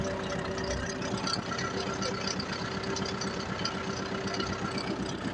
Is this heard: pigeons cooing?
no